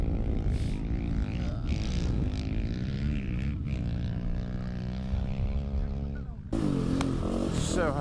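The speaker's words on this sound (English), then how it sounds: "So hard riding these bumps on the big bike" A big rally motorcycle racing over bumps in the Dakar Rally: a loud, continuous engine drone that rises and falls with throttle changes, close and unbroken until a brief dip near the end.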